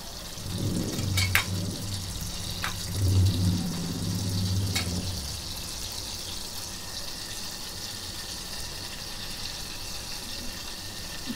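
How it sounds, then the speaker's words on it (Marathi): Garlic sizzling in hot butter in a pan, a moderate crackle during the first five seconds that thins to a faint, steady background hiss with a few light clinks. "आता हे गरम झालेलं आहे आपलं बटर, त्याच्यामध्ये मी टाकते गार्लिक"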